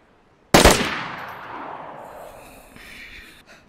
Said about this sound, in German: Ich höre mal so einen Testschuss ab.